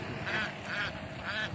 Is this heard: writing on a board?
no